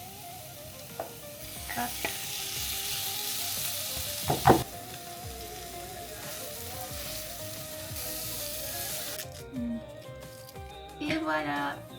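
An onion sautés in a pan as the base of a tomato sauce, a soft steady sizzle with occasional stirring clatters and a sharp scrape, while someone talks briefly over it and background tones hum.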